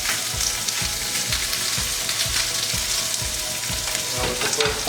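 Shrimp fry in a pan with a loud, continuous sizzle and crackle, close by, with a regular scraping rhythm underneath from stirring.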